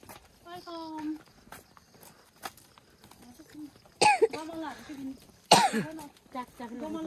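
Two sharp bursts of dry coughing sound up close at an outdoor picnic among friends, each followed by talk and laughter, with earlier brief voices and light clatter.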